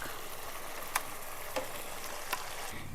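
Ground spinach paste for palak paneer goes into spices frying in oil, giving a steady low sizzle with three distinct spoon clicks spaced about a second apart.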